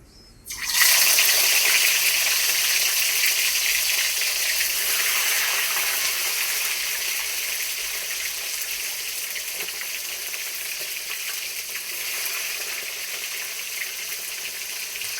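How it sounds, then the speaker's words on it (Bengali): Fish drops into hot oil in a pan and erupts into loud, close sizzling that crackles steadily and eases slightly over about fourteen seconds. "তেল আমার গরম হয়ে গেছে, এবার মাছগুলো ছেড়ে দেব।"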